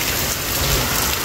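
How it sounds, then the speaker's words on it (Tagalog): Hail pelts a car roof in a steady, dense roar of tiny impacts, loud and unbroken, with no voices over it. "Ayan o, daming yelo."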